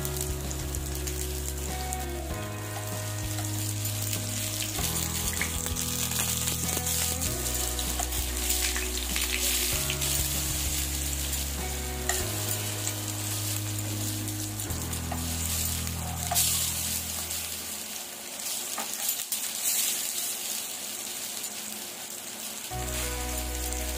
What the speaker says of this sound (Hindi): तेल गरम हेले गोटी गोटी करि माछ को पकाइबा।